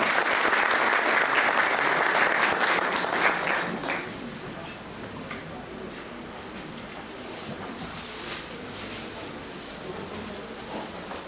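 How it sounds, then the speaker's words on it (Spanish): An audience at an international ethnomathematics conference claps loudly to welcome a speaker. The burst of applause fades after a few seconds into a softer scattering of claps and room noise. "les suplico recibir un cordial aplauso a nuestro distinguido ponente"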